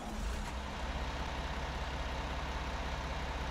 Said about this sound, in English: Let's start this engine up.